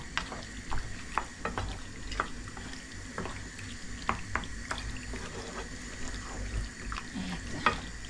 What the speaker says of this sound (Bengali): তার মধ্যে সস পাস্তাও দিয়ে দিলাম, সসটার মধ্যে দিয়ে এটাকে ভালোভাবে মিক্স করব